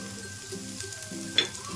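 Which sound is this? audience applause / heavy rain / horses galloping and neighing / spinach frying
spinach frying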